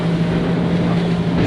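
A Hydrolift X-27 motorboat running at high speed on open water, its engine a steady low drone under heavy rushing wind and spray noise, loud and continuous throughout the short stretch.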